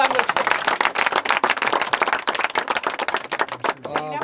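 A crowd claps steadily at a community gathering for a rehabilitated water pump in Tilbonindouo, Gontougo region. The applause is dense and continuous, with a voice briefly rising near the end.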